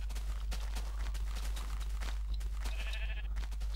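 Minecraft sheep bleat in a few short wavering calls over a constant low hum, with faint soft footstep-like clicks scattered through.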